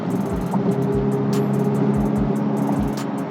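Steady road and tire noise inside a 2023 Chevrolet Corvette Z06 moving at speed, a constant low rumble with periodic thumps as the wheels pass over seams.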